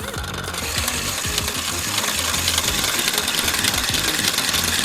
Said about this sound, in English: And then we'll turn on the motor.